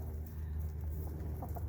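Barred Rock and Rhode Island Red hens cluck softly in a short, close burst over a steady low farmyard rumble.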